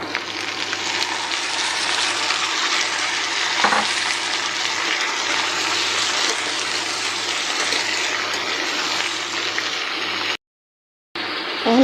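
Thin pumpkin strips sizzling in a pan with already-fried onion, a loud steady hiss with stirring scrapes throughout and a short silent gap near the end, no talking.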